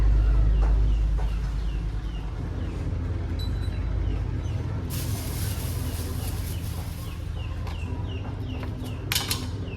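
Chickens at a market in Laos cluck in scattered short calls at moderate distance, over a steady low background rumble with a few brief sharp noises.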